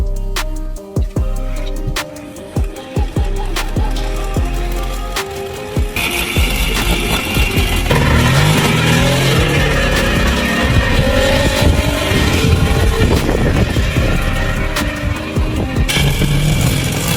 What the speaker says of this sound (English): Will this 40-year-old engine actually start?